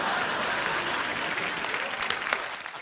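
A studio audience at a Hindi comedy talk show claps in a thick, continuous wave of applause that thins slightly toward the end, with a few sharper individual claps standing out.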